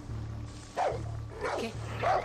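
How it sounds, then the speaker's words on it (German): A dog barks in the video game Far Cry 6, three loud, close barks spaced evenly over a low steady game hum, with no talk. "dieser scheiß Köter"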